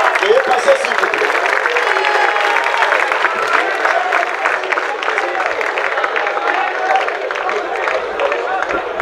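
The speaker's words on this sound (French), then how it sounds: "Sous vos applaudissements." Audience applause for a group being called up at a presentation event in Kinshasa, a dense steady wash of many hands clapping for several seconds with crowd murmur mixed in.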